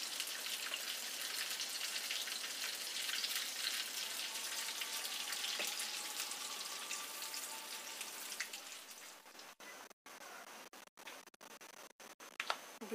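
Five dried red chilies crackle and sizzle in about two tablespoons of hot butter, a steady bright frying hiss with fine popping, ending in a few sharper spits.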